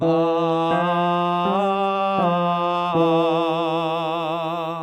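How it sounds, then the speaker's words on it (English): A lone voice sings a higher harmony line, clear sustained notes changing pitch in steps, finishing on a long note with gentle vibrato. "Here's an example of a higher harmony."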